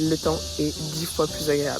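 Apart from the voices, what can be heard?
cicadas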